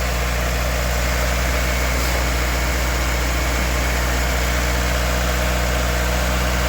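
A car engine idles quietly and evenly, a continuous low hum with a steady fine pulse and no speech over it.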